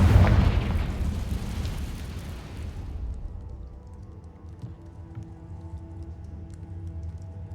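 Confringo fire spell from the video game Hogwarts Legacy bursting with a loud, deep boom that rumbles and fades over a few seconds, leaving only a quiet, faint game ambience.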